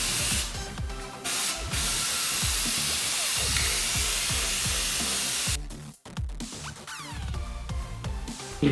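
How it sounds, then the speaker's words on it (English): Spray can primer hisses steadily onto a Lexus IS300 car wheel in long, loud continuous bursts with a brief break partway through, while music plays underneath. "we're gonna tape it off and spray the primer"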